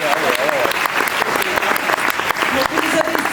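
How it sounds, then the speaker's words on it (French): An audience at the Les Favoris 2009 awards evening applauds the jury with dense, steady clapping. Murmured voices and some cheering sit under the claps. "alors vous pouvez les applaudir"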